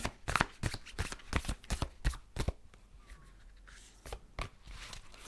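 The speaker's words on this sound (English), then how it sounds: "Quite hard to shuffle these because they're really, really smooth." Smooth tarot cards being shuffled in quick riffling bursts, close and crisp, with a brief pause before a few softer shuffles and taps.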